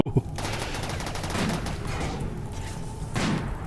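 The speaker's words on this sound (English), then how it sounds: "Alright, Kaz is able to shoot. And Tobraxi. There we go, we're all shooting." Colonists shooting in the RimWorld video game: a few sharp gunshot bursts stand out over a dense, continuous game soundscape, with the shots loud and close.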